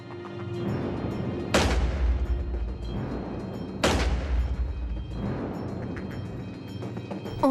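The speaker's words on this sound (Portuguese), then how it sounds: "nosso especialista usa uma arma de cano longo que mantém o tiro concentrado em um padrão mais estável ao longo do cano" A long-barrel shotgun fired by an expert gives two loud, sharp blasts a couple of seconds apart, each followed by a long, rolling echo that fades slowly, with no voices.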